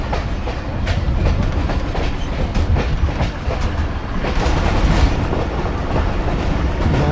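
Millat Express passenger train running steadily along its tracks, a continuous loud rumble of wheels and carriages with rhythmic clatter throughout, no voices.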